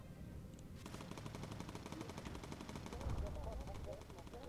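Rapid turret machine-gun fire from a bomber in the video game Bomber Crew, steady sustained bursts with a heavier thump near the end, mixed with game engine drone and voices talking over it.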